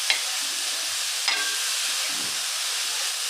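Dried prawns roasting dry in a pan over low gas, giving a steady soft sizzle and hiss with occasional scraping stirs, close and even throughout.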